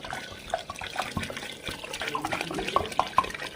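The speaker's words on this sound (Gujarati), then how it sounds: "તો આપણે હવે આની અંદર પાણી નાખી દઈશું." Water poured into a pot of Kathiyawadi khichdi, a quiet splashing and trickling stream with small bubbling plops, fairly soft and close, without speech.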